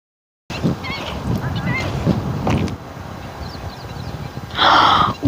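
A bird gives a few short chirping calls and then a loud, honking cry near the end, close by over a quiet outdoor background.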